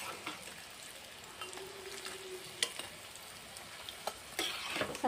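Potato chops fry in hot oil with a soft, steady sizzle, with intermittent scrapes and clinks of a utensil turning them, fairly quiet and close.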